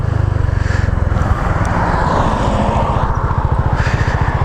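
A 13-year-old Honda PCX 125 scooter engine drones steadily and close, its pulsing buzz rising gradually as it accelerates from about 40 to 80, with wind noise around it.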